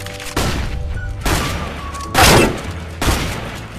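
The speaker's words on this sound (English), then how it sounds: "Throw a flashbang." Blasts and gunfire from a CS:GO match, including a flashbang grenade going off, come as several loud bursts about a second apart, with one sharp, bright explosion standing out near the middle.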